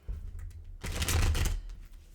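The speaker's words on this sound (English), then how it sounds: "I'm going to give it a couple more shuffles and then we'll get started." A deck of cards being shuffled, a soft riffle followed by a louder, longer burst of flapping cards lasting under a second, close up and alone over a low background hum.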